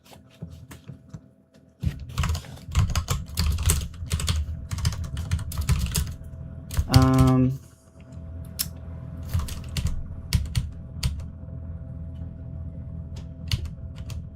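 Rapid typing on a computer keyboard during game-jam coding, close and clear, with bursts of clattering keystrokes separated by short pauses and one brief louder tonal sound midway.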